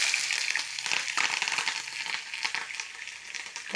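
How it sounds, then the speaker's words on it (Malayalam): Ginger and green chillies sauté in hot oil with mustard seeds for a tomato chutney, giving a steady, close sizzle with crackling spatters throughout and no talking. "ഇഞ്ചിയും പച്ചമുളകും കൂടെ വഴറ്റിയെടുക്കാം."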